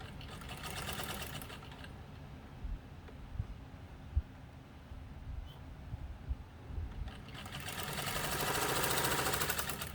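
A Singer 15 sewing machine stitches steadily, its rapid mechanical whir and needle clatter continuous and close, swelling louder toward the end with no voices.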